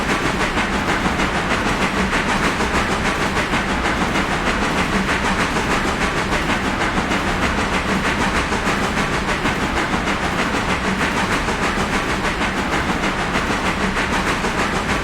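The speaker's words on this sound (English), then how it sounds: "Whereas this AI is loud with his engine. He's been running the steam this whole entire time." A steam locomotive in the Railroader train simulation game chuffs and hisses continuously, with a steady rhythmic rail rumble that stays loud and unbroken throughout, and no voices.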